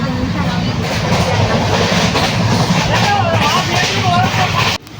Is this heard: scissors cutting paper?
no